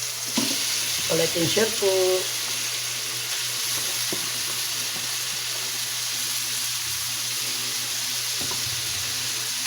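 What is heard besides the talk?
bitter gourd (ampalaya) sizzling as it fries in a pan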